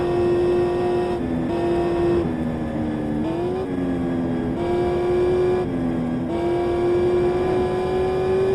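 A Hemi V8 car engine drones steadily and loudly on a cruise along Kolekole Pass to Ka'ena Point, its low hum dipping and rising slightly through gear changes without pause.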